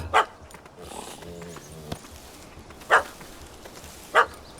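Dog barks in The Witcher 3: Hearts of Stone, three short sharp yaps spaced a second or more apart, fairly close and loud over a low game ambience, with a brief musical or vocal tone between them.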